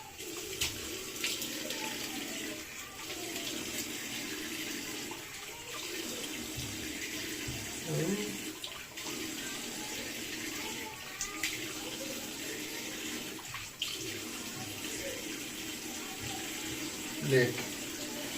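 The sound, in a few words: water running while washing the electric shaver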